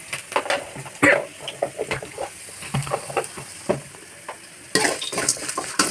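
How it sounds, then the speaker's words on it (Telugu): Onions fry in a pan with a soft sizzle under repeated clinks and scrapes of a spoon stirring against the metal, with a louder burst of sizzling near the end. "ఆల్మోస్ట్ వేగిపోయినాయండి ఆనియన్స్ అంతా"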